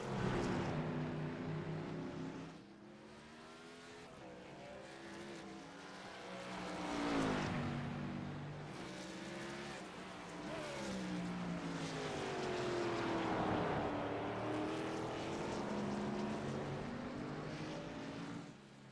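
Ford Mustang race car engine roaring past at a Montreal race, rising and falling in pitch as it accelerates, downshifts under braking and pulls away, loud and sustained throughout.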